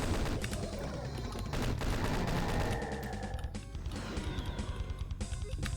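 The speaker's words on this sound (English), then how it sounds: "I'll use the chain gun to finish him off." Chain gun fire in Doom 2: a rapid, steady stream of loud shots that ends in fast evenly spaced bursts, mixed with crashing impacts and other game noise.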